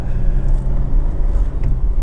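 A Honda Civic 2.2 i-DTEC diesel engine idles smoothly and evenly, a steady low rumble heard close up, with no voices over it.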